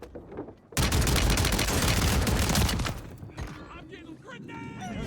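Dense, loud gunfire bursts out in Call of Duty MW3 Warzone, a continuous close fusillade for about two seconds that then thins into scattered shots and game sounds, with a voice in the background.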